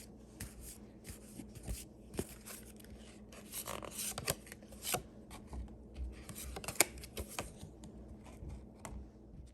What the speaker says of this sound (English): I'm going to shuffle and we're going to draw 2 cards